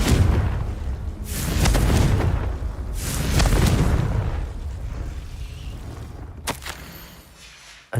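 Fire spell blasts in Hogwarts Legacy: two broad, rumbling booms a couple of seconds apart, each swelling and fading, followed by a few sharp pops and cracks toward the end.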